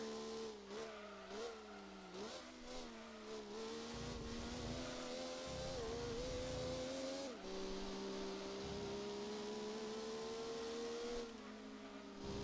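A race car engine revs and shifts through gears with tire squeal in the video game Gran Turismo 2, continuous and fairly quiet, pitch rising and dropping as the car brakes and turns.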